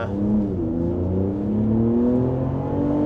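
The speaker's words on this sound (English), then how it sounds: "you get the nice gurgly sounds of the exhaust, which I really like" A 2026 Ram 1500 RHO pickup with 540 horsepower accelerates, its exhaust rising in a deep, gurgly, steadily climbing engine drone heard from inside the cab.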